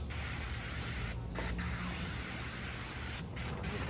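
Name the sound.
spray bottle spraying window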